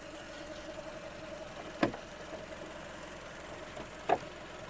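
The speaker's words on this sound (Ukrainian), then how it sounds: "робота двигуна" A Volkswagen Golf engine idles quietly and steadily in the background, with two brief sharp knocks or clicks standing out along the way.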